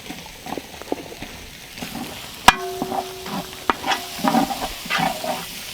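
Ginger, garlic and onion frying in oil for a beef curry, a close crackling sizzle broken by a utensil scraping and knocking the pan, with one sharp metallic clang partway through.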